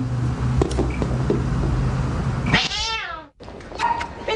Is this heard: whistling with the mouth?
no